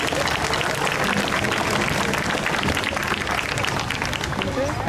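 Dense, steady applause from a sizable crowd at an outdoor Memorial Day parade ceremony in Chappaqua, New York, clapping continuously throughout with no break.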